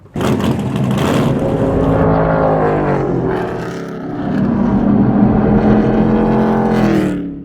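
A stock car engine roars loud and close from onboard at Pocono Raceway, holding a steady high drone with a brief dip near four seconds before climbing again, with no talk over it.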